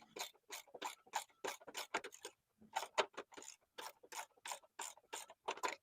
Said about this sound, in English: You need to reposition the Allen key, make sure you have enough leverage, just like this.